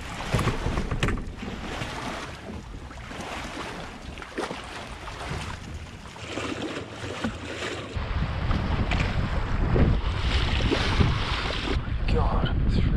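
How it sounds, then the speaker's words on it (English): Strong, gusting wind roaring across the microphone at Clear Lake, California, a constant broadband rush that swells louder in the second half, with faint water sounds beneath. "Crazy, crazy, crazy windy"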